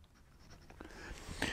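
A green-striped Sheaffer Jade Balance fountain pen with a slightly upturned nib writes on paper, giving soft, smooth scratching strokes close up that build to a brighter stroke near the end.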